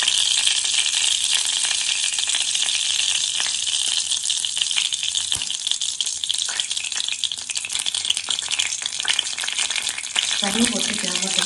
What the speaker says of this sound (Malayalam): കടുക് പൊട്ടി ചേർന്നിട്ടുണ്ട്.